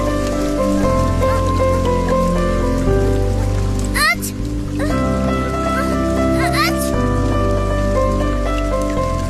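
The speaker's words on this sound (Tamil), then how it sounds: "மழை வேற அதிகமா பெய்யுதே" Heavy rain pours steadily in a storybook setting, a dense hiss running throughout under a continuous bed of music, with brief sweeping effects partway through.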